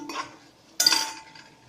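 A metal spoon clinks and scrapes against a pan while sliced onions for chicken biryani are stirred, with one soft stroke followed by a sharper, louder scrape, close and clear.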